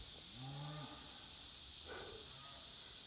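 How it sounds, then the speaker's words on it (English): Cattle lowing in a pasture by flood-damaged fences, one drawn-out moo early, then fainter calls from a distance against a steady hiss of insects, with no talking. "Cattle came back. They're up there now."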